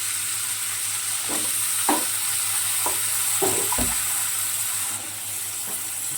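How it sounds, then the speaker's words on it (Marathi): Chopped vegetables for a mixed vegetable dish hiss steadily in a frying pan as a spoon scrapes and knocks through them in scattered, irregular strokes, fairly close. "आता ह्या चिरलेल्या भाज्या मी ह्याच्यात टाकते सगळ्या."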